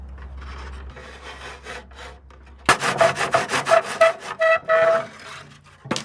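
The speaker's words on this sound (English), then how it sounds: "make marks for where I'm going to cut it with my miter box and saw" A hand saw cuts wood trim in a miter box: quiet handling at first, then a close run of rapid rhythmic rasping back-and-forth strokes that stops abruptly.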